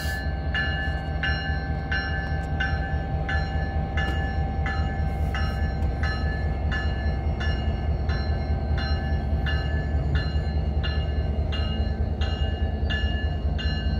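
AC4400CW diesel locomotives roll through Hobson Yard in Lincoln, Nebraska, giving a steady heavy engine drone with a rhythmic clicking of wheels over rail joints, loud and continuous throughout.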